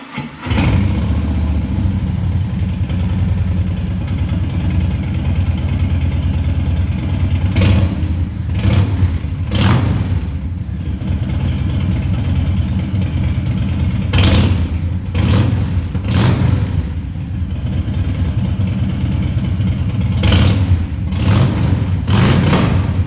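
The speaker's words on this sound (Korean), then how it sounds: "엔진 사운드도 들어보겠습니다." A Harley-Davidson Fat Boy 107 engine idles loudly with a deep rumble, then revs up in several sharp bursts before settling back.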